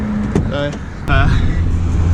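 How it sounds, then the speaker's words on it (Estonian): A drift car's engine runs steadily beneath talking, rising to a stronger, louder drone midway after a brief pause and continuing close and constant. "auto käib ja sõidab"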